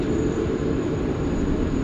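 A Japan Airlines jet takes off from runway 16 right at Sydney Airport, its engines producing a steady, loud, broad roar that holds constant throughout with no voices.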